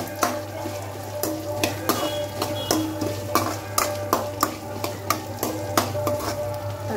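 Tomatoes fry and get stirred in a pan of tempering for a gravy, giving a steady sizzle broken by regular scraping strokes of a spoon, close and fairly loud with no talking.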